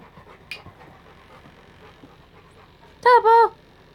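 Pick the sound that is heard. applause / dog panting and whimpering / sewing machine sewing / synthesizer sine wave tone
dog panting and whimpering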